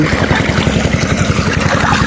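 An engine-driven water pump irrigating an onion field runs close and loud, a steady rapid thumping drone with a constant rush of water over it and no pause.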